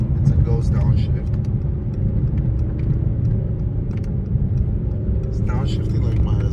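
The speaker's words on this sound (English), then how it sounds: "look at these beautiful downshifts, chat. It's a ghost downshift." A Stage 2 Mercedes E63s engine rumbles steadily from inside the car as it downshifts while driving, a low continuous drone with someone talking over it throughout.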